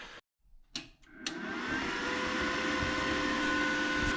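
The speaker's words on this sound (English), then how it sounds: "The fan is a bit obnoxious, but the same is true about my welder" A TIG welder's cooling fan spinning up after a few clicks and thumps, then a steady, loud whirring hum that holds to the end, close by with no talking.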